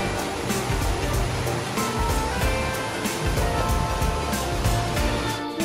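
Steady rushing water of a stream in a mountain valley fills the whole clip, a continuous broadband flow with no pauses and no voices on top.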